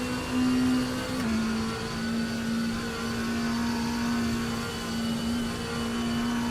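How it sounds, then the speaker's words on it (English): A race car's transmission whines in the sim racing game RaceRoom, a steady high tone holding nearly level across the whole stretch, dipping briefly once, over a constant engine drone with no talk. "It does seem like it's a generic gear whine sound."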